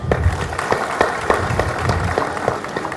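An audience claps steadily at an indoor event, a dense, even patter of many hands with no voices, holding at constant loudness throughout.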